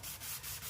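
Hand sanding of a foggy car headlight lens, a few quick back-and-forth rubbing strokes with a rhythmic, gritty scratch, close up with no talk.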